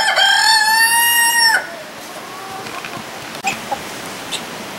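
A rooster crows loudly and close for over a second, followed by softer scattered clucks from chickens and guinea fowl nearby.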